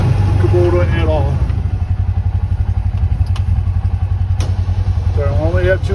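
A Kubota Sidekick utility vehicle's engine drones loudly and steadily as it pushes snow with a plow, with a faint rhythmic clatter and someone talking over it at times.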